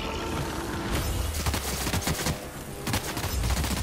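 Video game gunfire from The Outer Worlds, with dense, loud bursts of shots crackling continuously through the clip, the strongest volleys clustered in the middle and near the end.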